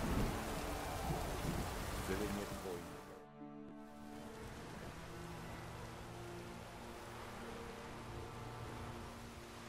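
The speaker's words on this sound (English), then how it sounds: "Those have brought us rain." Rain and thunder in the video game The Witcher 3, a steady hiss of rainfall with low rumbling beneath, briefly cut out and resuming under a faint voice.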